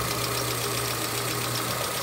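A car engine idles steadily just after being started during a workshop check of a car that sputters and sometimes stalls, with a continuous low hum and a faint rhythmic knock throughout and no talking.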